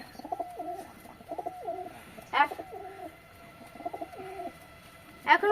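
Pigeons in a loft coo in repeated low, rolling phrases, four or five distinct bouts spaced a second or so apart, punctuated by a couple of sharp brief sounds.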